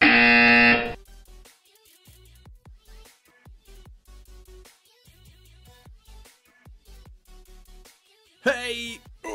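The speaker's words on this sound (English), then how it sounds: "You will hear a buzzer." A loud, harsh buzzer from the Pet Simulator 99 game sounds in a short burst at the start and again near the end. Quiet, plinking tonal game sounds fill the gap between the two bursts.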